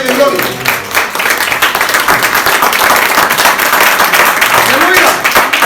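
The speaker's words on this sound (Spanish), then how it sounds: "Eso es un aplauso al Rey de Gloria." A church congregation claps in dense, steady applause at a loud level, sustained throughout with voices mixed in.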